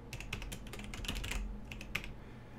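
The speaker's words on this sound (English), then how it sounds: "And then we'll type in a password." A password is typed on a computer keyboard: a quick, uneven run of light key clicks with a short pause near the end.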